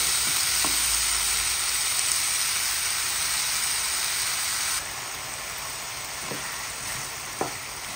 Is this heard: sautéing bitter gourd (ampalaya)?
yes